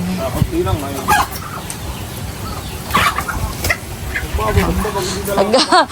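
Chickens cluck and squawk intermittently close by while feeding at a fishpond farm, with people chattering in the background.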